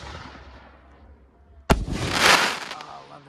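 A green comet-tail firework canister bursts into a chrysanthemum: a sharp close launch bang, then a broad loud crackling roar of the break spreading and fading over a second or so.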